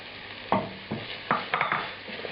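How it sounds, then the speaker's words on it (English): Onions, garlic and ginger sautéing over medium heat in a pan for a beef curry with anardana and mint, a soft sizzle broken by several close stirring scrapes. "And continue sauteing this for just a little bit more."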